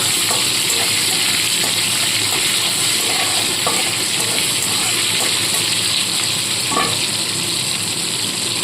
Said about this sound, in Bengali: টমেটো কুচোটা দিয়ে দিলাম টমেটোটাকে একটু নাড়াচাড়া করে নেব